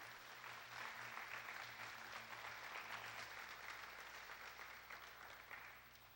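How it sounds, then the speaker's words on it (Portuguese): A church congregation at a Feast of Tabernacles service applauds, giving a broad, continuous wash of clapping from many hands that swells and then slowly fades, heard at some distance with a low hum underneath. "Palmas para Jesus"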